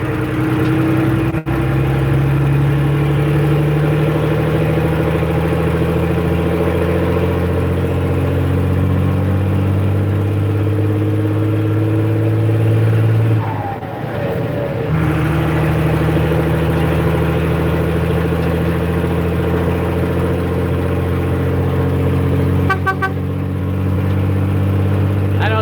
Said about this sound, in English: it's a good running truck